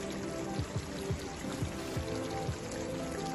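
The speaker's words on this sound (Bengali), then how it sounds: "বেশ অনেকটাই ফ্রেশ ক্রিম লাগবে।" Fresh cream pours into a chicken dish with butter and garlic powder, making a short steady liquid stream with several soft glugging plops.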